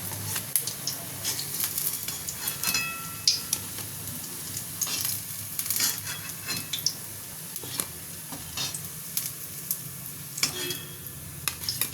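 Eggplant and potato chops fry in a pan with a soft, steady sizzle, punctuated by scattered clinks and scrapes of a utensil stirring and turning them.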